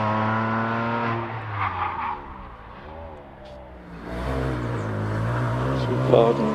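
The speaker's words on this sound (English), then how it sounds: "As Tom Rossi comes into Torres and cleanly around there." A race car at the Prescott hill climb, its engine droning and rising and falling in pitch as it revs through a corner, with a commentator talking over it throughout.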